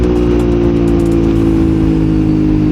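Aprilia RS660 parallel-twin motorcycle engine revving hard and holding a high, loud, buzzing drone with strong steady harmonics, very close and without talk.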